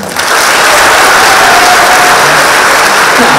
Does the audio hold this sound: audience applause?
yes